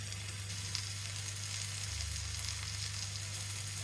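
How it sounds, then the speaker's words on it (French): Merguez sausage sizzling on a barbecue grill, a steady close crackling hiss with a low hum underneath throughout. "Que je retire le boudin pour que la merguez cuise."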